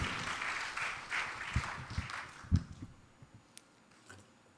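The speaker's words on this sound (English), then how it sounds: "give both Ravina and her dad a lusty round of applause" Applause from an audience at a Divali celebration rises as a broad, moderately loud wash of many hands clapping, then thins out into a few scattered, fading claps.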